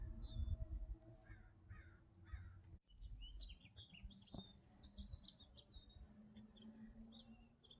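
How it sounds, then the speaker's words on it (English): Birds calling outdoors in a garden, with a run of short repeated chirps and scattered higher calls, crow-like caws mixed in, fairly faint over low background rumble. "Can you hear all those beautiful birds?"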